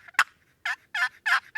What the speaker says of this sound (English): you can use one box call to create unlimited vocalizations by simply changing paddles, yelps, cuts, clucks,